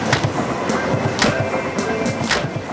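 A train rumbles past nearby, with a loud steady roar broken by rhythmic clacking bursts, with no talking.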